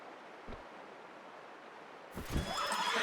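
A horse in the Red Dead Redemption video game gives a brief snort, then a louder whinny with hoof clops near the end, heard over a quiet outdoor ambience.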